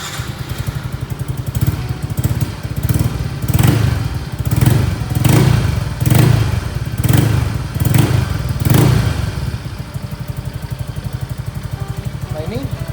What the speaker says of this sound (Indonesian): kita sekarang akan coba start motornya